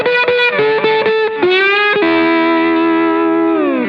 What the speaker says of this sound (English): you hear all of those notes kind of ringing out together